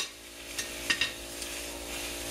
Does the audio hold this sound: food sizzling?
yes